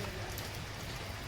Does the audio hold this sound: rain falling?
yes